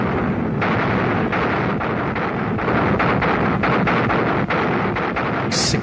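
Massed artillery barrage with Katyusha rocket launchers firing during a night assault on German defences, a dense continuous roar of overlapping blasts and rumbling booms, loud and unbroken with no speech.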